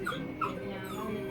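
Vagabond, a dog in a souvenir shop, lets out a couple of short, high whimpers close by, over a soft room background.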